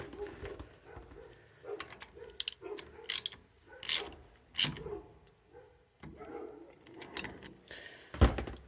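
A ratchet wrench tightens bolts on a Mopar 8 3/4 axle, with bursts of clicking and sharper metallic clanks in an uneven rhythm, close and fairly quiet, in a quiet workshop.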